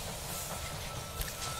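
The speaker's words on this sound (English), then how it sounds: "The train has arrived at the station." A train arriving at the station in the strategy game They Are Billions: a steady, continuous rumble with a soft hiss and faint clicking, rolling along evenly for a moment with no voices over it.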